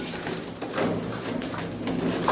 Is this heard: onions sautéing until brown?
no